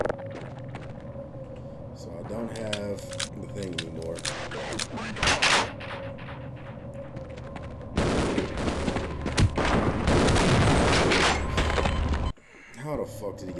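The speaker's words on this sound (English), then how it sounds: "Who the hell is shooting me from behind?" Half-Life gunfire sounds in rapid, sustained bursts with metallic impacts and thuds, loud and continuous for several seconds before cutting off abruptly. A person talks over parts of the shooting.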